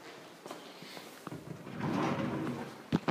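Storage drawers built into a custom seat bench in a kitchen slide open with soft wooden scrapes and bumps, ending in a couple of sharp knocks, heard close up with no talking.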